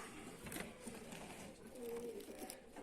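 Pigeons cooing softly inside a dovecote, a low murmuring coo rising in the middle of the stretch, with faint rustling and background noise and no speech.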